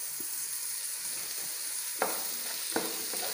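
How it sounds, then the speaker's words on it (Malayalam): Onions and three sliced medium tomatoes sauté in a pan for Tamil Nadu-style Ambur chicken biryani, giving a soft, steady sizzle. Two sharper scraping stirs stand out partway through, and no one speaks. "ഇനി നമുക്ക് ഇത് നന്നായിട്ടൊന്ന് വഴറ്റിക്കൊടുക്കാം."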